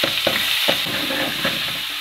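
Ginger garlic paste frying in a pan, a bright continuous sizzle broken by quick rhythmic scrapes of a spoon stirring, close up, with no speech.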